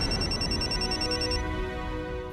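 A telephone rings with a steady repeating electronic tone during a Marathi TV serial scene, loud and close, fading out partway through with no talk over it.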